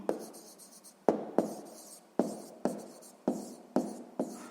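A pen scratches across paper while working a sixth-grade maths exercise, in repeated short strokes with sharp onsets, close and fairly quiet, with no talking over it.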